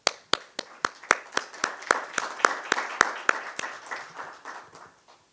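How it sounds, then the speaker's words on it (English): A conference audience applauds a speaker with a steady run of sharp, evenly spaced claps, close and fairly loud, tapering off toward the end. "May we please give him a round of applause."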